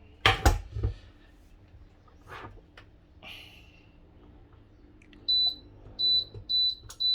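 A 2000-watt induction cooktop switched to full power gives a run of short, clean electronic beeps near the end, after some scattered clatter and handling knocks.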